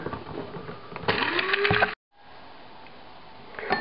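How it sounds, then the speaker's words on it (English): Cardamom, chilies, cumin and spices are ground with coarse salt in a grinder, a close mechanical whirring and gritty rattle that cuts off abruptly, then resumes more quietly after a short silence. "The reason I'm using coarse salt is that the properties of the abrasive properties will help grind up the chili."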